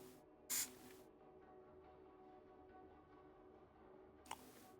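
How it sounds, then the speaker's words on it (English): An airbrush gives two short hissing bursts of primer onto a Warhammer 40,000 miniature, the first longer and the second a brief puff, with a faint background hum between them. "Let me just do a little top-down spray."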